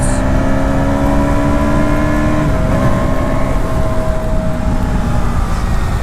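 A KTM Duke 160 motorcycle engine hums and drones steadily while riding, its pitch shifting slightly, loud and close under heavy wind rush.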